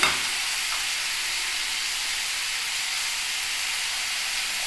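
Boiled cauliflower water drained off in a kitchen, a steady close steaming hiss running evenly from start to finish with no talk.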